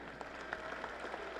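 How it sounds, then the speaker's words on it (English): Applause from a basketball crowd in a high school gym, a steady wash of clapping at moderate level with a few sharper claps standing out. "Let's give our fans a round of applause for trying."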